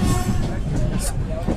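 The Chennai to Bangalore Mail Express, an unreserved passenger train, rumbles along steadily with a dense, loud, continuous roar of wheels and carriage noise close by inside the train.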